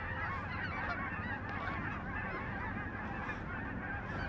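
A flock of Canada geese honks continuously and loudly during a waterfowl hunt at a flyway, many overlapping calls forming a dense, steady clamor.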